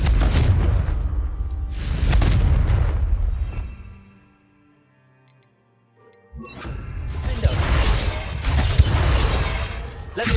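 A Confringo fire spell blasts in Hogwarts Legacy with a loud booming explosion, then drops to near silence and a low rumble before a second heavy burst of blast and crackling debris fills the rest.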